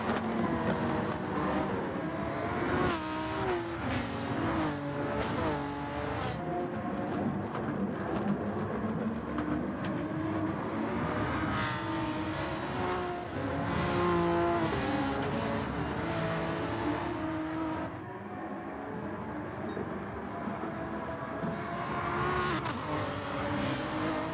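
Race car engines roar continuously in a Gran Turismo 7 manufacturers cup race, loud and close, with repeated revving surges, gear shifts and pitch climbs as the car accelerates alongside rival cars.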